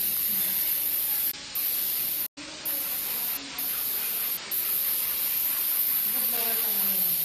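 Steam cleaner hissing in steady bursts during house cleaning, a continuous broad spray broken by a few brief pauses, close and loud throughout.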